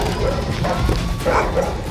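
Dogs in a prison yard give short yips and whimpering barks under a constant noisy background hum.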